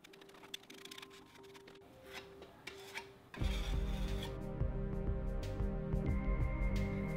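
Sanding over filled holes and caulked corner gaps on an apartment wall around a blackout roller shade: light rasping strokes at first, then a louder, continuous abrasive scrubbing that keeps on until the end.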